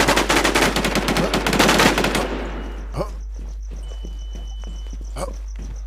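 Rapid bursts of automatic gunfire in the online survival shooter Infestation SEA crackle loudly for about two seconds, followed by a few sparse, fainter shots and quieter game sounds.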